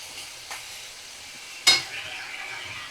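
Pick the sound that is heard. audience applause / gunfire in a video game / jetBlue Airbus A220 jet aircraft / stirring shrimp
stirring shrimp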